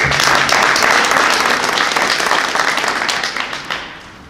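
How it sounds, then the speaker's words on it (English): A town hall meeting audience applauds as the Director of Redevelopment is introduced. Dense, steady clapping fills most of the clip, then thins and fades over the last half second. "So let's give a round of applause to our Director of Redevelopment"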